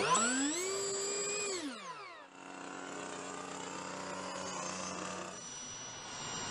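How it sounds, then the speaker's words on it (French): A high electric whine from a model jet aircraft's small electric turbine rises, holds, then sweeps down and cuts out, followed by a quieter, steadier motor hum. "c'est une turbine électrique, en fait, il n'y a pas de réacteur"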